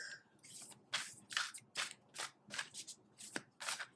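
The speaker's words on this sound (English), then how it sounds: "You guys can skip shuffling all the time" A deck of tarot cards being shuffled by hand: a run of quick, crisp riffling bursts, close and fairly quiet, repeating in an uneven rhythm with no voices.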